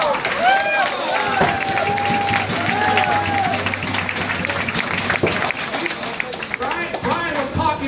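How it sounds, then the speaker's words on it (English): Sustained audience applause for Brian at a Domino's rally, hearty clapping and some cheers under a speaker's amplified voice talking over the crowd. "Can we give Brian a round of applause here?"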